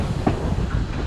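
Steam train on the Zig Zag Railway in Australia rolling along the rails toward a reversing station, a steady close rumble with faint clickety-clack of wheels and no voices.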